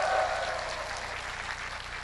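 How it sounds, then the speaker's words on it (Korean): Audience applause at a live corporate concert event hall, a steady dense wash of clapping from a crowd, loud and continuous with no speech. "다시 한번 힘차게 박수!"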